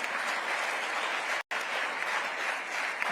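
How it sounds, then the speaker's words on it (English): An awards-ceremony audience claps steadily for an honoree in a large hall, a dense, sustained wash of applause broken by one abrupt momentary dropout, with no voices over it. "A big round of applause for Dr."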